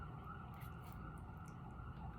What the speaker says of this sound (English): I know there's a siren outside, but I'm in New York City